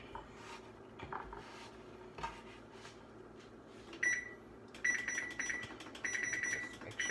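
An oven being switched on, giving a run of bright electronic beeps in quick repeated bursts, preceded by quieter kitchen clatter and soft handling noises.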